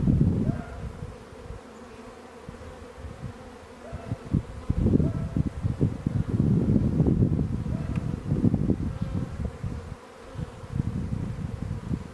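Honey bees buzz in a steady, close, dense drone at an open hive during an inspection, with intermittent handling knocks and rustles and no voices.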